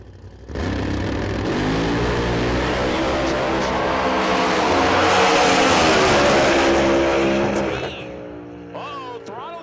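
A drag race car roars loudly down the track at a radial drag racing event, a sustained high-powered engine scream with rising harmonics that briefly falters near the end as the throttle sticks, then fades.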